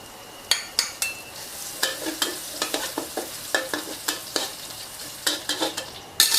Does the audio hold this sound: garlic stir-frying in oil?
yes